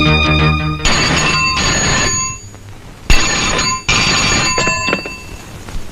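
A telephone rings loudly nearby in an office, sounding in distinct bursts of bright electronic tones with short pauses between them, alone without talk.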